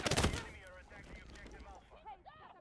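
Constant explosions and gunfire from the video game Battlefield, a dense loud burst at first that settles into a continuous rumbling barrage with sharp cracks, while a voice talks over it.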